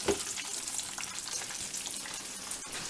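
Bacon frying in hot grease on a stovetop burner, a steady close crackling sizzle with dense popping spatters running throughout, no voices.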